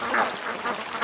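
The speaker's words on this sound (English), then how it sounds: "Just look at those ducks. They're having so much fun." A dense flock of ducks quacks together, with overlapping nasal calls rising and falling in quick bursts, close and fairly loud, with no talking.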